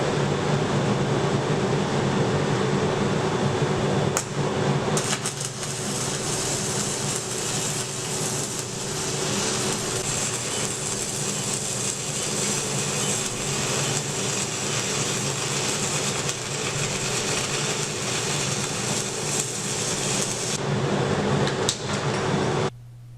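Dust extraction fan pointed upwards runs steadily during a PM2.5 particle counter measurement, a loud continuous broadband whoosh that holds for about twenty seconds before cutting off at the end.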